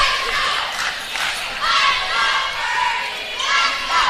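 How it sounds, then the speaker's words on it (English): Spectators at a girls' high school volleyball championship in a gym cheer and shout together, a sustained crowd roar swelling in waves with some bright individual yells standing out, echoing through the hall. "The Fernie crowd trying to hype up their team."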